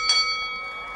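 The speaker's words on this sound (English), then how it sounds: "I think we're waiting for the bell." A single boxing-match bell strikes once, sharp and bright, then rings on with a long, fading metallic tone.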